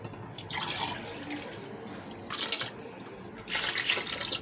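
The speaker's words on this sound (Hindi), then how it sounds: "हमारे 3 पाव चावल थे तो हम ये वाले कप 6 कप पानी डालेंगे" Water is poured from a cup onto soaked rice in a pot, several separate splashing pours of a second or so each, close by against a faint background hiss, with no talking.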